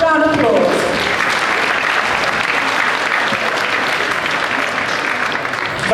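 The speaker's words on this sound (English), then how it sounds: "A round of applause." An audience breaks into sustained applause for a speaker at a People's Assembly meeting, loud and steady throughout, with a brief voice at the very start.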